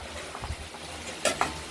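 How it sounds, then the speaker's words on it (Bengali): Potatoes and onions fry in a pan with a continuous close hiss of sizzling, broken by two quick sharp clacks of a utensil near the end. "আলু পেঁয়াজগুলো ভাজা ভাজা ভাজা ভাজা হয়ে গেছে"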